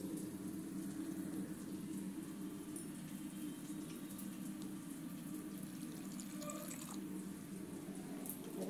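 Water is drawn from a tap into a container to grind ginger into a paste in a home kitchen, a steady close splashing and trickle running unbroken throughout.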